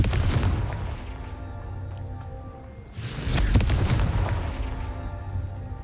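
A Confringo fire-blast spell from a Harry Potter wizarding video game erupts into a loud, booming explosion with a sharp burst around midway, its rumble layered over steady game ambience and lingering afterward.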